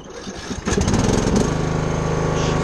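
A Troy-Bilt Pony lawn tractor's engine cranks briefly and catches, then settles into a steady, loud running idle close by, with no talk over it.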